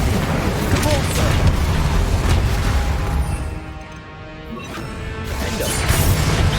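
Combat spells such as Confringo, Bombarda and Incendio go off in Hogwarts Legacy as a loud, dense barrage of crashing blasts and booms. The barrage dips briefly midway, then builds again.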